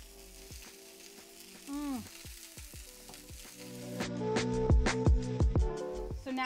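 Snapper fillet sears in a hot pan for seared snapper tacos, a steady sizzle with clinks and scraping of a utensil, growing louder and busier toward the end, with a brief murmur from a voice.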